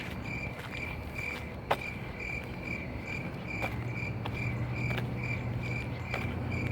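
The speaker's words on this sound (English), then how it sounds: "Cricket sounds and everything." Crickets chirp steadily at night outside a shopping centre, their high pulsing trills repeating in regular bursts, with a low hum joining partway through, a single sharp tap, and no voices.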